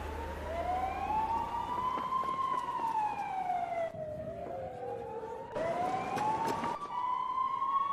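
An ambulance siren wails in slow rising and falling sweeps, loud and close, with a brief dip partway through before the wail resumes, over a low rumble of road traffic.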